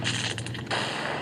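Bombs exploding in a video game, a dense burst of booming, crackling blasts running continuously through a short stretch, loud and close with no voices.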